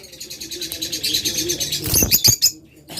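Pet lovebirds, budgies and cockatiels kept for sale chirp and tweet rapidly in a close, loud, continuous chatter, ending with a few sharp bursts that sound like wing flaps or cage rattles, with no one speaking.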